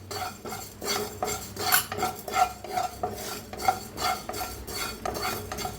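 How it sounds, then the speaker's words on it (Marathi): A spoon stirs fenugreek seeds being dry-roasted in a pan while making garam masala, giving a steady, rhythmic scraping and rattling that sounds close and moderately loud, with no talking. "आता इथं मेथी भाजून घेऊया।"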